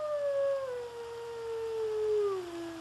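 A single wolf gives a long, clear, sliding howl that slowly falls in pitch over nearly three seconds, carrying faint overtones, heard alone and fairly close against quiet background noise.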